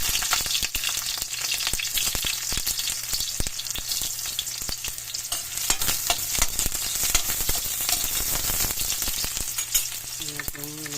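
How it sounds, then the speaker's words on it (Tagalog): Garlic and onion sautéing in hot oil in a pan, a steady close sizzle with frequent sharp crackles and stirring scrapes throughout, no voices. "Gisa na natin guys yung bawang. Mix natin yung sibuyas."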